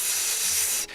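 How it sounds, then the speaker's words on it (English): Acid sizzling as it eats into metal lockpicks, a loud, steady broadband hiss that holds evenly for about a second and then cuts off abruptly. "You just hear a sizzle sound, and then it smells like acid."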